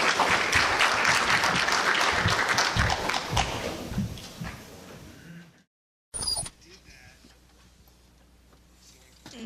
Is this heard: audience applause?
yes